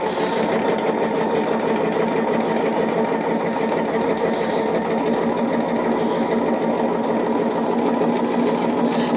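A sewing machine runs steadily and loud while stitching quilt squares for a woodland quilt, a continuous fast whirring hum with no pauses and no talking.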